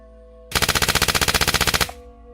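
A submachine gun sound effect plays during a Fallout tabletop RPG session: one loud, evenly spaced burst of about sixteen rapid shots lasting under a second and a half, preceded and followed by a low steady hum.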